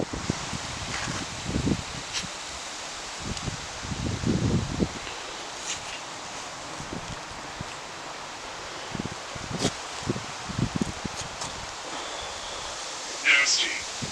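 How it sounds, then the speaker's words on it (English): Cold wind blowing outside a camping van, a steady broadband rush with gusting rumbles and rustling surges, close to the microphone and continuous throughout. "I know you can hear that wind blowing."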